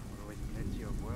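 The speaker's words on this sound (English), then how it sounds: "I like the sound of the rain in this game." Rain falls with a low rumble of thunder in the video game A Plague Tale: Innocence, a dense steady wash of rainfall with deep swells underneath, brief and moderately loud, with voices faintly mixed in.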